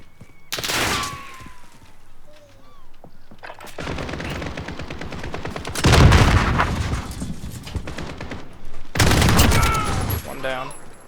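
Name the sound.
AK-47 gunfire in video game Call of Duty Modern Warfare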